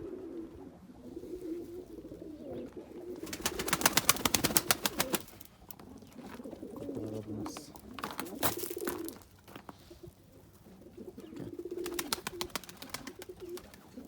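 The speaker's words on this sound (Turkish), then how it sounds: "Çok fazla kuş var" Many pigeons cooing in a coop, overlapping throaty calls with bursts of rapid flapping wings in the middle, continuing at a moderate level throughout.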